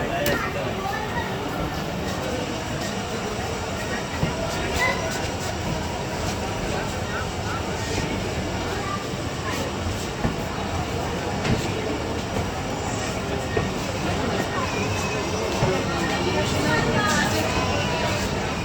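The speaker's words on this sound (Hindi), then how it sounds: "7:10 पर हमारी ट्रेन चल पड़ी है भावलपुर रेलवे स्टेशन से" The Allama Iqbal Express pulls out of Bahawalpur railway station, heard from inside an old barred coach as a continuous, loud rumble with rhythmic clickety-clack of wheels and scattered clanks. Voices murmur faintly underneath.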